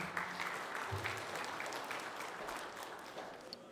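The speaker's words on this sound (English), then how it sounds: "Another round of applause for Scott and Tanya." Audience applause at a boxing hall of fame event, a steady wash of many hands clapping across a hall, fairly distant and even throughout with a brief voice near the start.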